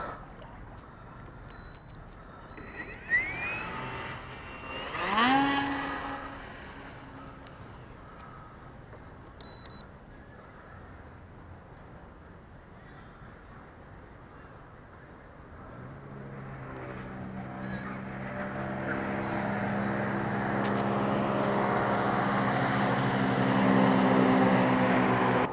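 Parkzone Sport Cub RC airplane fitted with floats, taking off from water near boat traffic: a rising propeller buzz with a brief whine early, then a steadily louder, harmonic motor drone as it climbs and flies.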